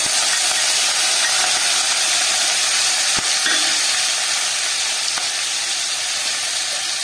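Ground onion paste sizzles loudly and steadily in hot oil left from frying pomfret fish, a dense, even hiss with a couple of faint clicks partway through.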